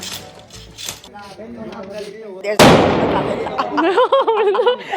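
A sharp, loud blast from a gunpowder cannon bursts out midway, followed by a rumbling roar, with excited voices and shouting before and after, at the Barood ki Holi gunpowder festival in Menar, India.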